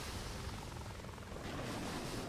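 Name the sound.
rocket choppers (helicopters) in video game Boom Beach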